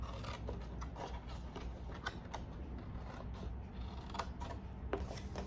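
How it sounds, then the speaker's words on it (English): Scissors cut through cardstock to make a card clutch, giving a steady run of close, quiet snips and crisp crunching blade sounds. "I'm gonna cut that whole section off"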